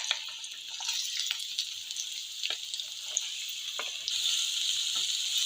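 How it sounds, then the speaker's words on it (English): Four big, thinly sliced onions sauté in ghee for a dhaba-style mutton dish. A continuous, bright sizzling hiss is broken by occasional stirring ticks and grows slightly louder toward the end. No one talks. "Let's saute them until it turns to light golden brown in color."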